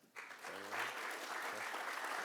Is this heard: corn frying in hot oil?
no